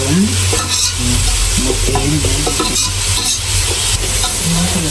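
Onions being stir-fried in a pan for a Sri Lankan home-cooked dish, with steady loud sizzling and the scrape of a spoon stirring throughout, close up and uninterrupted, with no talking.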